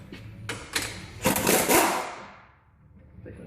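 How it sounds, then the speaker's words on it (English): An impact wrench fitted with a 19mm socket rattles off the top nut of a Toyota RAV4 front strut in a few short bursts, the loudest hammering in the middle, close and fading into quiet. "We're going to use an impact again,"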